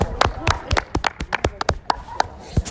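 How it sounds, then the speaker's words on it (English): A handful of people clap in irregular, scattered bursts, fairly close, with some voices chattering in between. "So everyone clap."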